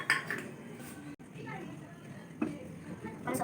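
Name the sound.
stirring homemade tomato sauce in a pot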